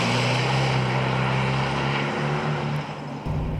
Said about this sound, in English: this performance exhaust, that whole sound, that is actually standard on TRD Pro